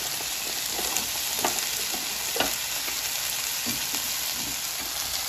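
Jalapeño and curry paste fry in a pan for a Thai green curry with a steady, loud sizzle, while occasional stirring scrapes and taps break through.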